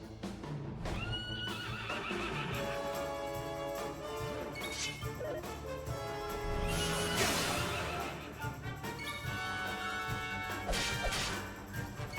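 Horse whinnying in the Dragon Quest 11 video game, set against a loud, dense game music score with crashing hits and swishes running throughout.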